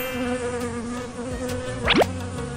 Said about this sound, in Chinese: 这些蜜蜂干扰了治疗